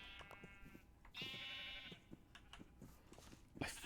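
Sheep bleating in the Minecraft video game, several short wavering bleats in a row with quiet gaps between them, faint and clear, heard alone without talk.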